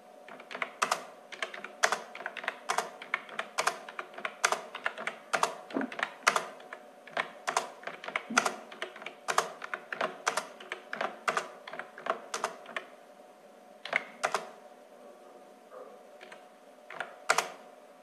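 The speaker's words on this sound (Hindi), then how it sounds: "अब हम लोग परसेंटेज टाइप कर लेते हैं" Close, quiet clicking of keys on a computer keyboard as numbers are entered, in uneven bursts of rapid taps and short pauses with no talk.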